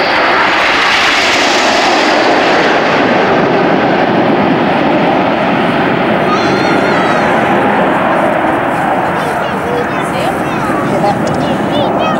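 Hawker Hunter jets flying in formation at an air display roar steadily overhead with a loud, continuous engine rumble and whine that holds for the whole stretch, with a commentator's voice over the top.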